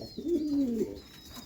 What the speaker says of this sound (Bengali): এটা একটা নর কবুতর, টপ ক্লাস কোয়ালিটির এক পিস নর।